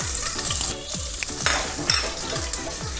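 Chopped green chillies sizzle in hot oil in a pan while being prepared for a Trivandrum-style vada koottukari. A steady fry crackle runs throughout, with rhythmic scraping strokes of a spoon stirring about twice a second.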